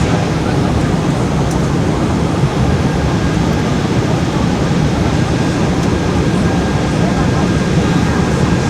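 Steady broadband roar inside an American Airlines airliner cabin during descent from XNA to DFW, a constant loud engine and airflow rumble filling the whole clip with no talk.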